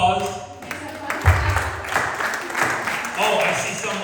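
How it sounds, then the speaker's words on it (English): An audience at an evening event claps together in a broad, sustained burst of applause that swells after a brief pause and carries on steadily, with voices mixed in underneath. "Give yourselves a round of applause."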